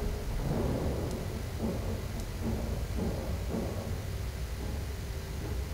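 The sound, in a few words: lightning bolt spell with thunder in Dungeon Siege 3 video game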